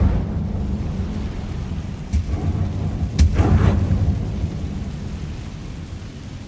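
Incendio fire spell cast in Hogwarts Legacy, heard as a sudden roaring, crackling burst with a sharp crack partway through, rising out of a steady low rumble of game ambience.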